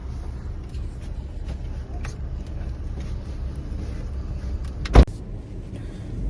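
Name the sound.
car driving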